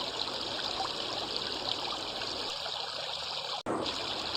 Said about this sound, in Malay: Bunyi air sungai yang mengalir menambahkan lagi ketenangan dan keindahan di Sungai Tengas.